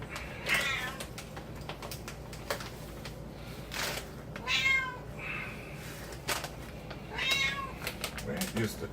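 A house cat meows several times in a kitchen during cooking, short clear calls spread across the stretch over low background noise and occasional clatter.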